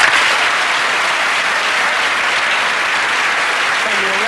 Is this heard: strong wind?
no